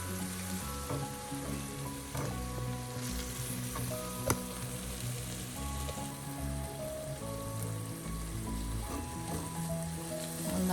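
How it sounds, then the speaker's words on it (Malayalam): Ground spice powders fry in hot oil for a chicken curry, a steady close sizzle with soft stirring scrapes throughout. "ചൂടാക്കി വെച്ചിരിക്കുന്ന മസാലപ്പൊടികൾ ചേർക്കുക. അത് ഈ ഓയിലൊന്ന് മൂപ്പിച്ചെടുക്കുക."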